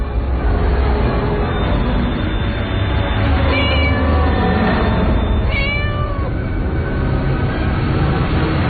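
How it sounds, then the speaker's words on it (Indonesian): A white cat meows two or three times in drawn-out calls, clearly audible over a loud, constant rumbling background. "Kucing berwarna putih itu melihatku terus sambil terus mengeong."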